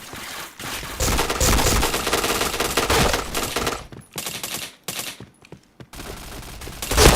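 Heavy automatic gunfire in the shooter game Point Blank, loud sustained bursts rattling almost nonstop, broken by a few brief gaps toward the end before firing resumes.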